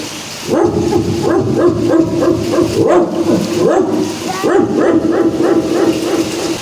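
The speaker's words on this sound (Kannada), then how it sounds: "ನಾಯಿಲು" Several dogs bark and yip repeatedly at close range, rapid overlapping barks with a whining, excited quality.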